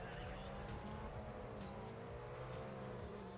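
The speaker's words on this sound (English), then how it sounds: "We've got the engines running and they're off." Race car engines roar in Need for Speed ProStreet, a dense, continuous mix of revving and accelerating cars at the start of a race, loud and steady throughout with a faint tire squeal.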